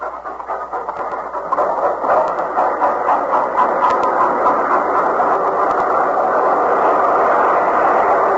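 A train rumbles steadily along the tracks with a faint rhythmic clatter of wheels, loud and continuous throughout.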